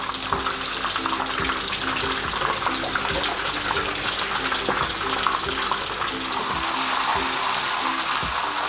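Chicken tatsuta patty sizzling steadily in hot frying oil, a dense continuous crackle and hiss close up with small pops throughout, no voices.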